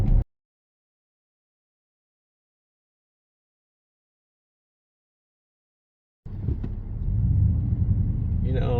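A 2018 Chevrolet Silverado 1500 LT Z71 pickup truck on a test drive produces a steady, deep engine and road rumble. It starts abruptly after a long stretch of silence and continues loud to the end, with a voice joining near the finish.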